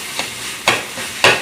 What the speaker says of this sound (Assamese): এইখিনি অকণমান মই ভাজি ল'লোঁ।